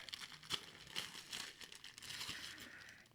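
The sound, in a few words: unwrapping a wrapped Christmas present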